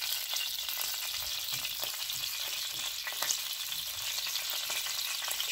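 Fish frying in a pan over low heat, a steady close sizzle and crackle running throughout with small bursts of spatter, no talk.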